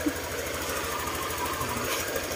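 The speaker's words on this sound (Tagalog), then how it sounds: "Kaya painitin muna natin yung ano, yung makina." A Honda Click scooter engine idles while warming up just after being started, a steady, even putter with a fine rapid rhythm that stays at moderate level throughout.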